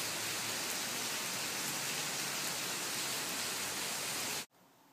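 Steady rain falling on an overcast day, a dense even hiss of drops held at constant loudness before cutting off abruptly near the end.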